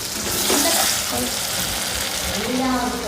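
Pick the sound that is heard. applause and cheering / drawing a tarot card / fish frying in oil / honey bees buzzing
fish frying in oil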